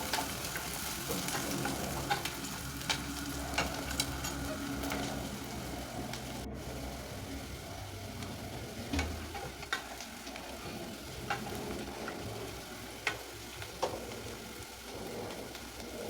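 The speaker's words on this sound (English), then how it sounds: "Now I go in with my garlic paste and ginger paste. And I will fry it a bit for 30 seconds." Garlic and ginger paste fry with softened onions in a pan for beans in coconut sauce, a quiet, steady sizzle and crackle throughout, with occasional light ticks of stirring.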